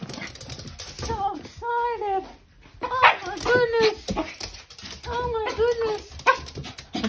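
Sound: excited pet dog whimpering and yipping

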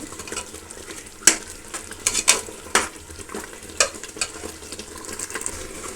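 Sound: frying and stirring in oil

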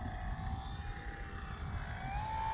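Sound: Dynam FW 190 RC model airplane flying

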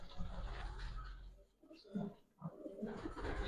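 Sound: pigeons cooing

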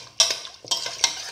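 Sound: stirring a mixture in a pot

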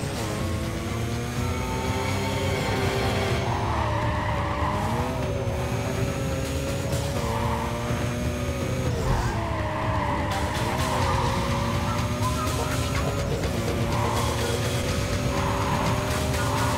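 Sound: car sliding around a curve in Need for Speed Carbon video game

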